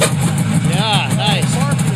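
A 1973 AMF Harley-Davidson snowmobile engine catches on the first pull and settles into a rough, uneven idle, close and loud, with people talking over it.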